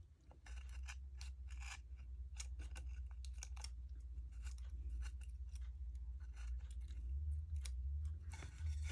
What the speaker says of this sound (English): Now I'm gonna have to see if I can take some smaller scissors.